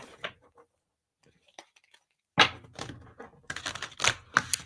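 A deck of cards shuffled by hand at a table: a few soft taps and riffles, a pause, then a loud burst of rapid fluttering riffle shuffles in quick succession, close by.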